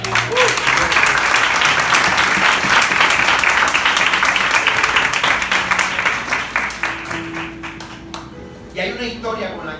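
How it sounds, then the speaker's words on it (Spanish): A church congregation claps loudly and densely, a sustained burst that slowly thins out and fades toward the end, with a voice and faint tones coming in as the applause dies away. "eso se merece un aplauso para Dios"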